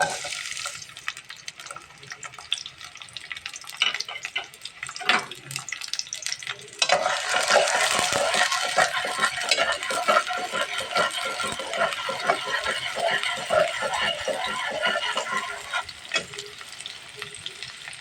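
Sliced onions frying in oil in a pot on a stove while being stirred: a quieter sizzle with scraping at first, then a loud, dense, continuous crackling hiss with spoon scrapes running through it.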